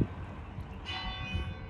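Church bells ring continuously, a dense resonant peal that swells partway through, heard alone without talk.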